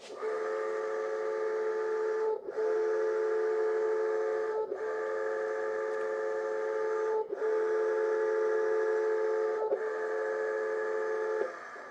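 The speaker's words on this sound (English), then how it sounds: "I always like to try to coat the inside of the tire, so we're gonna get that tire spinning" A Onewheel's new tire spinning fast to spread sealant inside after a tire change, giving a loud, steady whirring hum with harmonic tones, briefly dipping every couple of seconds, continuous with no talk.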